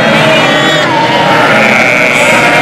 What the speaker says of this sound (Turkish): Kuzular sabah ve akşam saatlerinde beslenmek için anneleriyle buluşuyor.